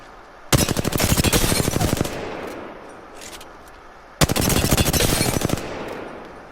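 Two rapid bursts of automatic fire from the 301 and Volt guns in the video game Apex Legends, each lasting about one and a half seconds, loud and close, with a pause between them.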